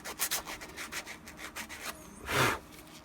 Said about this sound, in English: Just going to sand that a little bit just to take off the